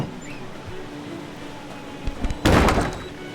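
A door slams with a heavy, loud thud inside a house in the video game Blade and Sorcery, preceded by a few smaller knocks over a steady background hum.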